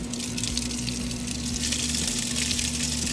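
Pool water discharges through an opened pump valve ahead of the filtration equipment, a steady close gushing rush with a constant low pump hum beneath it.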